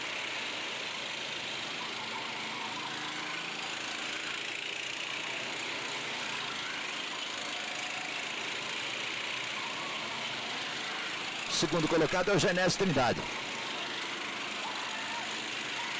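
Go-kart engines on a racing circuit during a kart championship round, a steady engine drone throughout with a louder, closer burst of revving as karts pass near, while a commentator speaks over the noise.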